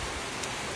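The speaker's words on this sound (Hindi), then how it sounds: "वर्षा को एंजॉय करिया" Steady rain falls in a village during monsoon rice-planting season, a dense even hiss that fills the whole moment at moderate loudness with no talk over it.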